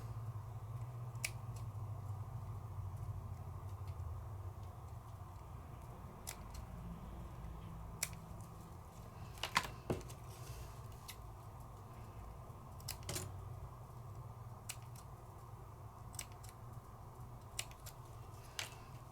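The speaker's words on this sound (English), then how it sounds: "now all I have to do is snip them out" Scissors snip out die-cut paper letters at a craft table. Scattered small crisp cuts and clicks come at irregular intervals over a steady low hum, close but soft, with no talking.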